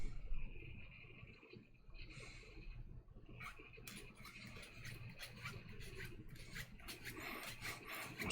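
A small curved piece sanded by hand, soft scratchy rasping strokes close to the microphone, faint at first and then more continuous and rhythmic with no talk.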